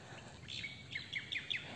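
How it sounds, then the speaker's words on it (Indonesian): Birds sing in a pine forest on the Singolangu hiking trail up Mount Lawu, a run of short, bright chirps and tweets at moderate distance repeating every fraction of a second over quiet woodland ambience. "Suara burung-burungnya merdu."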